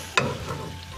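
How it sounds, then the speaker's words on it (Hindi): Macaroni and chicken masala sizzles in a frying pan as a spoon stirs it, with one sharp scrape near the start and then a steady frying hiss, close and moderately loud. "इसको अब अच्छी तरह मिक्स करेंगे"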